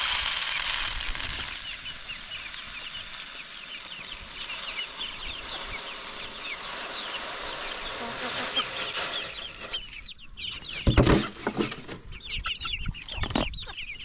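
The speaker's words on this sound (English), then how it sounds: "in this mix here I have white leghorns, cochins, red stars" Mixed flock of White Leghorn, Cochin and Red Star chickens on a Hawaii homestead clucking steadily close by, with busy chatter throughout and a few louder squawks and flaps near the end.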